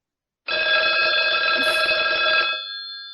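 A telephone bell rings in one continuous burst of about two seconds, bright and metallic, then fades out; no talking.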